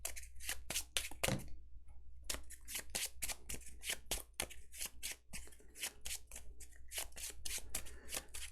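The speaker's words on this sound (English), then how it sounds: "I'm going to shuffle these cards" Playing cards being shuffled by hand during a tabletop game of Roll Player Adventures, a steady run of sharp, close riffling bursts with brief pauses between them.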